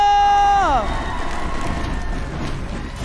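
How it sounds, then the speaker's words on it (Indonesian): A crowd of supporters cheers at the MPL Arena at an MPL Indonesia Season 11 esports match, RRQ versus Alter Ego. A steady tone bends downward, then a loud, continuous wash of cheering and noise fills the rest. "So MPL Arena mana tepuk tangannya?"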